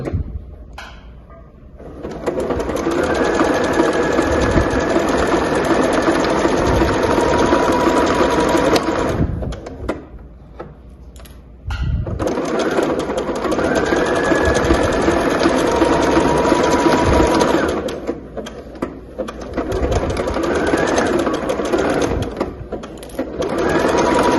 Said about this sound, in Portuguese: Vai deixando a máquina puxar o seu tecido, tá? Não empurra e nem segura.